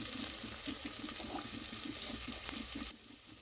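Water pours and bubbles into a pan of spices for masala khichdi and kadhi, with a steady gurgling patter, close by, then the flow stops near the end leaving a softer hiss.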